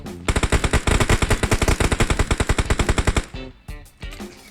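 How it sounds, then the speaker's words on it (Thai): Rapid automatic gunfire in the mobile battle royale game PUBG Mobile, a loud, close, even burst of about thirty shots that ends abruptly, followed by a few scattered single shots. "แล้วยิงตรงไหนอยู่เนี่ย"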